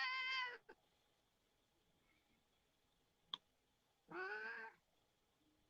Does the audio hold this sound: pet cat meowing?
yes